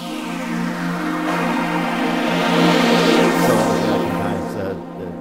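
Layered synth tones played on a CME UF8 88-key USB MIDI controller, a sustained dense chord with a slow flange sweep rising and falling through it, steady and fairly loud.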